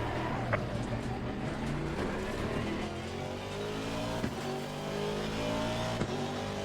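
An Aston Martin race car in Assetto Corsa Competizione pulls out of the pits, its engine a steady, loud drone that climbs gradually in pitch with a few faint clicks, and no voices.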